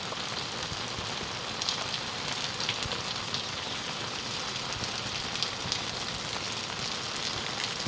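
Rain falls steadily on a village, a continuous broad hiss of drops on surfaces with a few slightly sharper patters, and no one speaking.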